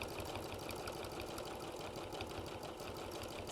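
A domestic sewing machine stitching through fabric with the needle and presser foot down, a steady close mechanical whirring with rapid rhythmic needle clatter, running continuously without pause.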